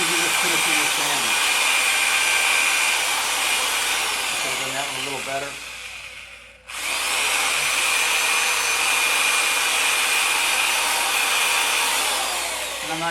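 An electric power sander runs steadily and loudly on a surface, with a brief stop midway before starting again, while a voice talks over the noise.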